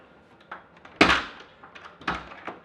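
An interior door with a JFIT pull-up bar fitted in its frame is pushed shut, giving one solid thunk followed by a couple of lighter knocks, close and clear in a quiet room.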